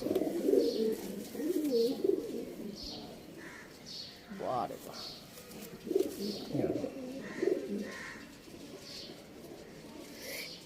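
Domestic pigeons coo in low rolling phrases near a loft, moderately loud, while a person talks briefly in between.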